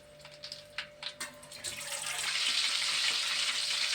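Green chillies, cut below the stems, drop into hot oil in a pan: a few soft taps, then a steady, building sizzle and hiss that fills the rest of the moment, close and moderately loud.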